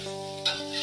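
Rice for nasi goreng with soy sauce frying and being stirred in a pan, a steady close sizzle with a scrape of the spatula partway through, loud and without voices.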